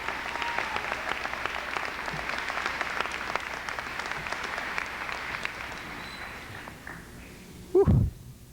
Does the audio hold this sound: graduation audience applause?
yes